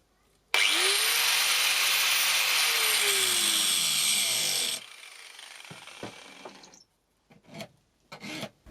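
An angle grinder sharpens a chainsaw chain with a loud, close, continuous high-pitched grinding whine for about four seconds, then spins down, followed by scattered faint clinks and scrapes.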